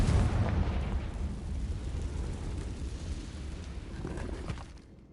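Confringo explosive spell blast in Hogwarts Legacy, a loud rumbling burst at the start that decays into a long roaring tail and fades out.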